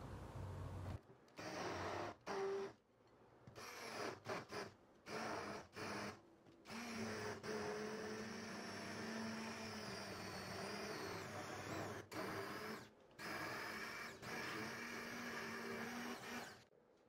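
An electric mixer whirs through batter with baking powder and vinegar, running in repeated bursts of loud motor whine separated by short silences.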